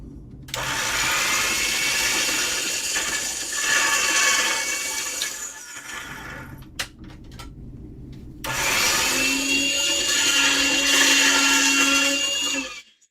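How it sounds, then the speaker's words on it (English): A hand-cranked pasta machine rolls a slab of jewelry clay flat, giving a steady grinding, whirring mechanical sound that runs in two long close passes with a short break between, loud and alone. "Actually, I'm going to get it through the pasta machine just once."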